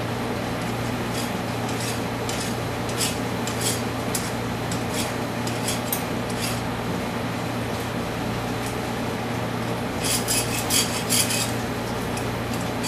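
A round file rasps rough burrs off a homemade kitchen knife, giving a steady scraping texture under a constant low hum, with a few brighter, harsher bursts of strokes near the end.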